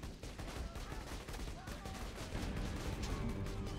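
Rapid automatic fire from the Ogre assault rifle in Borderlands 2 rattles on steadily for the whole stretch, dense and loud with overlapping shot bursts, with game effects blended in.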